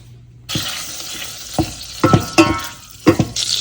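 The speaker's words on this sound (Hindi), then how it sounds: "इसमें इसको मैं बटर से जो है वो तड़का लगाऊंगी।" Butter sizzles steadily in a hot pan for a dal tempering, with a few sharp spattering pops and clinks of stirring breaking through the frying hiss.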